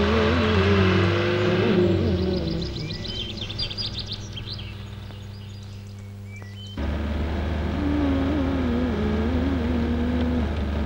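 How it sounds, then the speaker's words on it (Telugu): Heard from inside a moving lorry, the engine drones low and steady, thins out for a few seconds, then returns louder and fuller, with faint bird chirps above it early on and no talk. "ఈ లారీ ఏ ఊరు దాకా వెళ్తుంది?"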